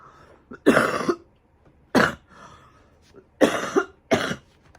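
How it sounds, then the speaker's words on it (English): One person coughs in four harsh, separate bouts spread over a few seconds, close and fairly loud, with short throat-clearing sounds between them and no speech. "I've been coughing a lot"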